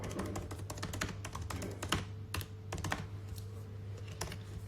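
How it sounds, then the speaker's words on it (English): Someone types on a computer keyboard at a slow, uneven pace. The keys tap close and faint over a low steady hum. "Sorry, I'm such a slow typer."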